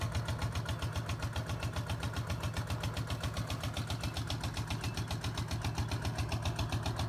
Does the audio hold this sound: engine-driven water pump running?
yes